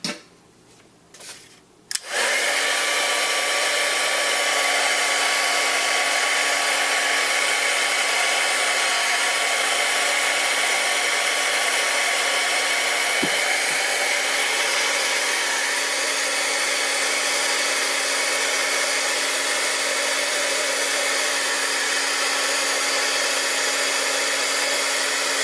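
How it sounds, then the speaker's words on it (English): A crafting heat tool switches on with a click and blows hot air over a snowman greeting card, a steady loud whooshing hum that runs unbroken and close for over twenty seconds. "I'm just going to get my heat tool."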